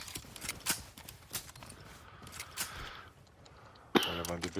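Horse hooves clip-clop in a French-language shooter video game, a quick run of hoof beats over background game noise with a sharp gunshot-like burst near the end.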